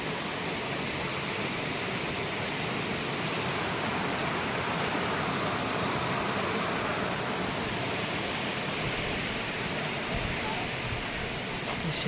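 A stream in rural fishing country, swollen after rain, gives off a dense, steady rush of flowing water, loud and close, unbroken throughout with no distinct splashes.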